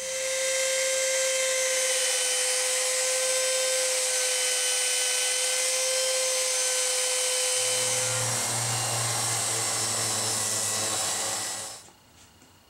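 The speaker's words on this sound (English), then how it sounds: "What we do is we use a laminate trimmer that's stuck down on there" A laminate trimmer fixed in a simple jig whines steadily while routing the neck tenon on a Les Paul Junior style guitar, changing to a lower, rougher cutting tone near the end before spinning down.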